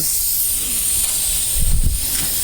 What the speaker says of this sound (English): I'm going to spray that with some silicone.